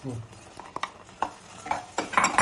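Ghee-roasted coconut being stirred in a pan for laddu, soft scraping and occasional utensil clinks in an uneven rhythm, growing slightly louder toward the end with a faint sizzle.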